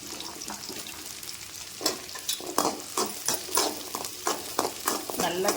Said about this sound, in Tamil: இப்போது எடுத்து வச்சுருக்க வெங்காயமெல்லாம் போட்டு நல்லா வதக்கலாம்.